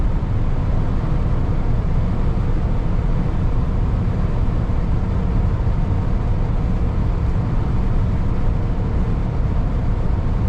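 A 1974 Cadillac Eldorado cruises at 60 mph, heard as a loud, steady rumble of road and wind noise from inside the car, unbroken and without speech.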